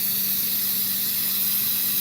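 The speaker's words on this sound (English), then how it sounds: "Don't ever try to open your pressure cooker until it is fully done venting" A pressure cooker venting steam gives a steady, loud hiss with a faint low hum underneath, continuous and close with no voices.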